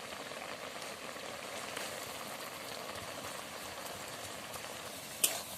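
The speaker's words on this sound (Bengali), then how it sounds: "সর্ষে বাটা দিয়ে ফুটিয়ে নিয়েছি এবারে ভেজে রাখা মাছগুলো দিয়ে দেবো" Fish curry for a small deshi tangra jhal chachchari simmers with mustard paste and turmeric in a pan, giving a faint, steady bubbling and popping throughout, with one sharp tap near the end and no talking.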